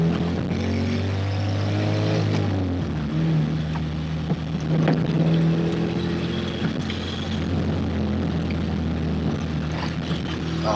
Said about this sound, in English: you can hear the road surface